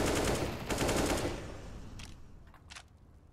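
Rapid automatic gunfire from an MP9 submachine gun in a Counter-Strike match on the Cobblestone map, a dense loud burst over the first second or so, then a few short sharp shots tapering off.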